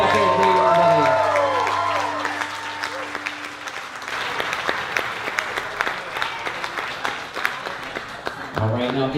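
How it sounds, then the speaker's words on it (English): Wedding guests at Glen Ellen Farm in Maryland break into sustained applause with some cheering for the couple, following a fading musical chord; dense clapping continues for several seconds, and a voice speaks near the end. "how about a big round of applause for Rebecca and Dave"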